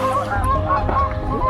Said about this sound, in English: see the Canadian geese there